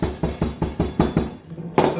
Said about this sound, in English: So bruising it is just taking those pods, and we're just going to hammer them a little bit.